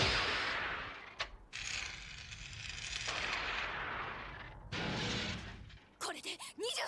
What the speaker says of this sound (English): I love the mechanics of the laser fire